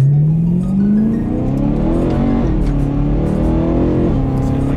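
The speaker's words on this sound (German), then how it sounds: "Gas geben." BMW E92 M3 engine revving under throttle, a loud, close rising engine note that climbs, dips briefly and climbs again across several seconds.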